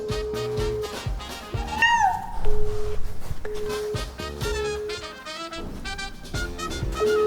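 A person imitates a cat's meow with a single rising and falling mewing cry near the two-second mark, set against a busy background during an outdoor hide-and-seek game among bushes.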